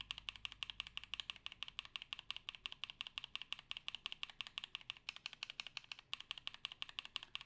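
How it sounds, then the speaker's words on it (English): Lubed NovelKeys Cream keyboard switches typed on steadily, a fast, even run of smooth keystrokes heard up close and alone for several seconds. "I really like the way it sounds when lubed."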